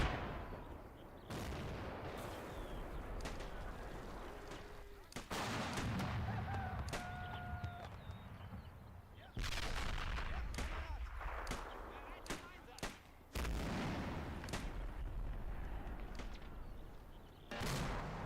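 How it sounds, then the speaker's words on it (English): Mortar and gunfire in a strategy war game, with repeated sharp blasts and shots punctuating a dense, busy battle din throughout, several bursts clustered near the start and in the second half. "The mortar is definitely doing its job."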